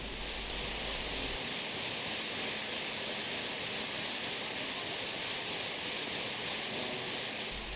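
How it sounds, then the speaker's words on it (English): A gang saw cuts marble blocks into dimension-stone slabs at a processing plant, producing a continuous, loud abrasive grinding hiss that stays even throughout with no talk. "split into slabs of dimension stone using a gang saw"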